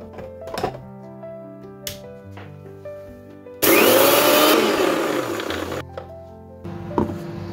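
A blender grinds dry white mustard seeds and poppy seeds in one loud, whirring burst of about two seconds that stands out sharply over quieter background music.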